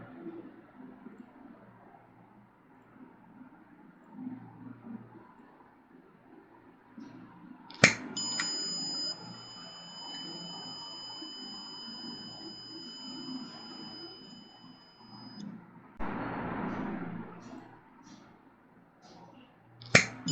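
An Arduino smoke sensor's buzzer alarm sounds as a steady electronic tone lasting several seconds, followed by a burst of hiss, with clicks at each end.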